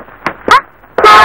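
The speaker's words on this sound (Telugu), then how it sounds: "ఏమిటి సార్ ఊరంతా మారు మోపేలా హార్న్ కొడతారు?" A car horn sounds in short honks, two brief toots and then a longer loud blast, close by in a village street.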